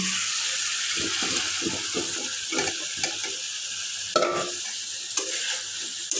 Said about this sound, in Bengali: বড় বড় যদিও বোঝা যাচ্ছে না, চিংড়ি মাছ রান্না করছি। এইটাতে একটু দিব, কী যেন বলে, ফুলকপি।